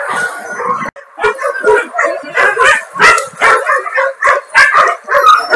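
Several dogs bark and yip in an outdoor enclosure, rapid overlapping loud barks in quick bursts with whimpering, close and continuous.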